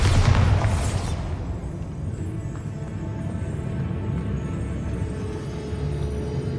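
Bombarda spell blast in Hogwarts Legacy: one loud booming explosion at the start that decays into a long low rumbling tail, alone without speech.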